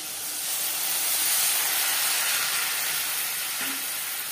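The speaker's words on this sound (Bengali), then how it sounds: "মাছ ম্যারিনেট করা থালাটা ধুয়ে আমি সামান্য পরিমাণে জল অ্যাড করলাম।" A splash of water hits a hot pan of onions, tomato and ground spices for a tilapia fish curry, giving a steady, close hissing sizzle of steam that runs the whole time with no talking.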